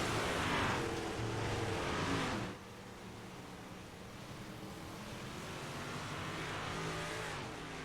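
Race cars circling behind the pace car at Cedar Lake, a dull steady engine drone that is louder for the first two and a half seconds, then settles into a softer, distant rumble.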